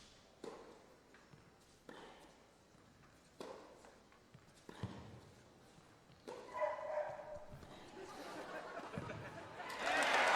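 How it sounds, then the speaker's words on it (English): A dog barks in the background at an outdoor tennis match, giving several spaced, fairly faint single barks amid scattered court noise, with crowd sound swelling toward the end. "You may have heard dog barking in the background"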